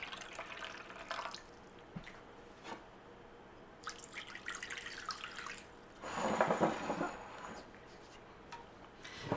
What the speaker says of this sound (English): Put my water in first.